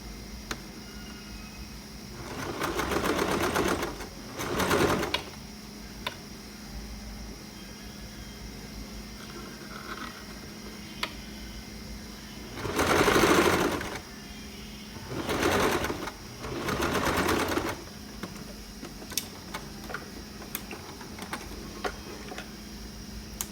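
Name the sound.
sewing machine stitching a sport collar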